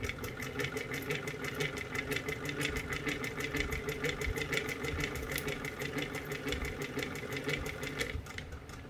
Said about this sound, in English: So I have a piece of flannel that I'm going to be sewing on.